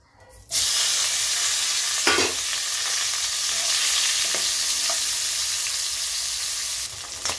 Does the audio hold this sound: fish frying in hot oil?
yes